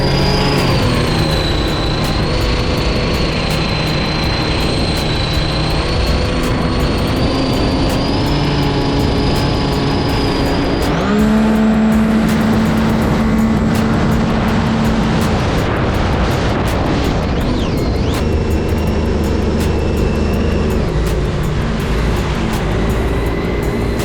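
2021 Sea-Doo RXP-X 300 jet ski with stage 1 upgrades and an aftermarket air intake surges from 40 to 80 mph, a loud, steady high-pitched engine whine over rushing wind and water spray, rising and shifting in pitch as speed builds.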